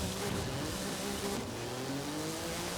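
A Forza Horizon 5 car built for wheelies revs at max RPM after a clutch drop, a loud, sustained engine scream with rising pitch as it accelerates hard, with a hint of tire squeal.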